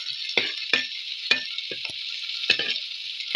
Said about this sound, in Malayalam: അരിഞ്ഞു വെച്ച ഇഞ്ചി പച്ചമുളക് അരിഞ്ഞത് എല്ലാം വഴറ്റാം